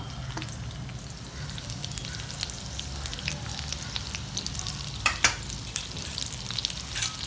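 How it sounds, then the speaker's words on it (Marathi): Steady crackling sizzle of garlic and green chilies frying in hot oil in a kadai, with scattered pops and a couple of sharper spatters near the end. "कढईत तेल तापलेलं आहे, मी ह्याच्यामध्ये लसूण टाकते, हिरव्या मिरच्या"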